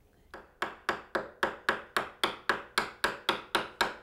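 A wood chisel cutting a door latch mortise, struck in a steady series of about twelve sharp, evenly spaced mallet blows, close and crisp, with no talking.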